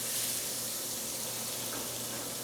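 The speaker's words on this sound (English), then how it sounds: "Once you hear that sizzle, kind of move the oil around the pan" Hot oil in a pan sizzles steadily, heating up before pork tenderloin goes in. The hiss is broad and continuous, close and even, with no speech over it.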